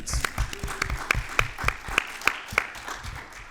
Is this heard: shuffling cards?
no